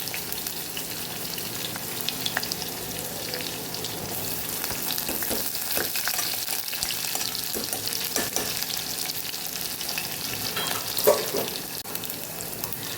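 Ginger with green and red chillies frying in hot oil for Gujarati dry potato sabzi, a dense continuous sizzle with occasional stirring scrapes and small crackles, close and steady.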